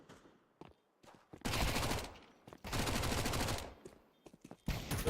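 SMG gunfire from a Counter-Strike match, sounding as two long sustained bursts of loud automatic fire with short pops and quieter gaps between them, and a third burst starting at the end.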